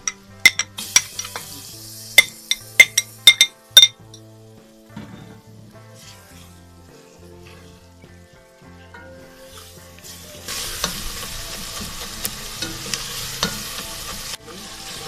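Onions frying in a pan for a mutton trotters recipe, with sharp metal spoon clinks against the pan at first, then a steady soft sizzle that grows louder near the end.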